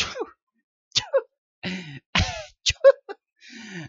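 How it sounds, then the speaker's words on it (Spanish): A young woman in an animated Spanish-language drama sneezes a couple of times, sharp bursts mixed with gasps and breathy laughter, close and separated by short silences. "su cuerpo le pasó factura cuando estornudó un par de veces"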